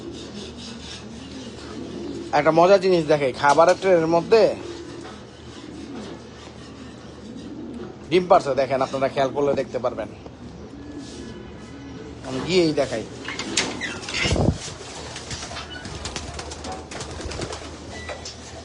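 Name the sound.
racing pigeons cooing and flapping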